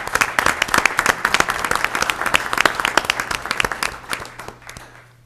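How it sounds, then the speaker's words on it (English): A round of clapping from a modest group at a city commission meeting, crisp and moderately close, steady for several seconds then thinning out and fading. "Could we have a round of applause for Mike once more?"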